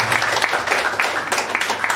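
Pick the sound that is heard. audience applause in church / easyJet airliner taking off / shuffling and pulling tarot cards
audience applause in church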